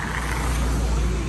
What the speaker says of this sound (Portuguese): não para de passar carro nessa pista desgraçada